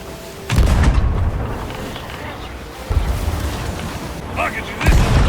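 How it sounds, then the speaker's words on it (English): Heavy booming pirate-ship cannon blasts go off several times in Sea of Thieves, loud and close, with voices and battle noise mixed in between. "Ready the cannons!"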